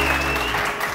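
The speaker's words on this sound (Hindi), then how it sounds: "तालियां" Studio audience clapping on a live television morning show, a brief dense burst of applause, close and steady.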